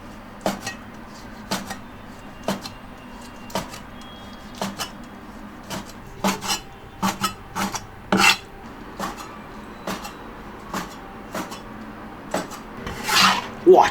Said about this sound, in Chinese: 我们给海螺切片哈